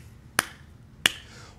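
Two crisp hand claps mark a steady beat in a music rhythm lesson, spaced evenly about two-thirds of a second apart. Close and sharp against a quiet room.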